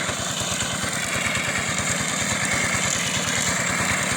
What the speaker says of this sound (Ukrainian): Мотоблок 8 кінських сил, мульчер.